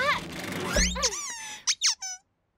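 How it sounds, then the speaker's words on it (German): A squeaky rubber duck toy in a children's cartoon gives three sharp, high squeaks in quick succession, following a stretch of animated voices and music. "eine Quietscheente"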